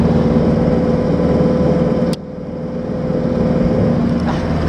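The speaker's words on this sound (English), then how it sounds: "Listen to her engine purr." A camper van's engine runs with a steady, close, loud hum that drops abruptly in level partway through and then holds a slightly quieter drone.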